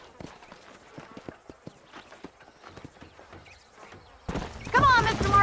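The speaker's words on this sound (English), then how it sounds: "These are fine horses." Horses in the Red Dead Redemption video game, rapid clip-clop hoofbeats coming in loudly near the end after quieter scattered thuds and movement sounds.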